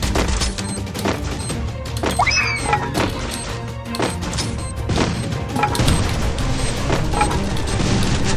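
Shooter video game combat with dense rapid gunfire and booming explosions; sharp cracks and thuds come in quick clusters throughout, loud and close, with some whizzing effects.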